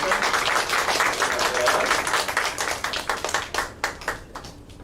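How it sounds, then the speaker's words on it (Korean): Applause from a church congregation during a Teacher's Sunday worship service, a dense burst of clapping that thins into scattered individual claps at the end, with some talk around it. "우리 박수로 격려해 주시기 바랍니다"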